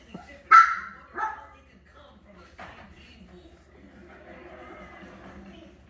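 A four-week-old puppy gives a couple of short, sharp yips followed by softer whimpers and small noises, close by, while a person talks softly over a low steady hum.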